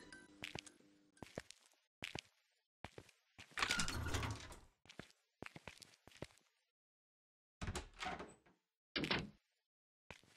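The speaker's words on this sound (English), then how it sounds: "Automatic doors." Automatic doors in the horror video game Precipice slide open and shut in a series of short mechanical whooshes and clunks, separated by silent gaps, with one longer grinding slide near the middle.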